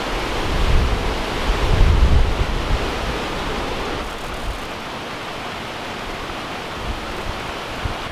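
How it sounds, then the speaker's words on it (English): Rain falls steadily outdoors near a porch during a passing shower, a dense broadband hiss mixed with gusty rumble that swells early on and then settles into an even wash. "it's actually raining on me quite a bit already"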